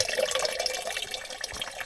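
Water from a river dripping and trickling steadily in a close, continuous splashing patter with no voices.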